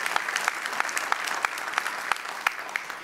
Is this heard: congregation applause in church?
yes